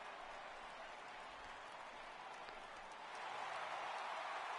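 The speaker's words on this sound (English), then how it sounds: "when you can win one at home in front of your home crowd, all those fans cheering" Home crowd cheering at a ballpark in the baseball video game MLB The Show 18, a steady broad roar of fans that swells louder near the end, with no talk over it.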